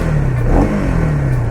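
A KTM Duke 250 motorcycle engine holds a loud, steady idle hum close up, with a brief swell in revs partway through.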